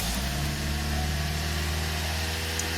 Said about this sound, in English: So let's go look how our idle went up, right? This was idling normally at 850 or something like that.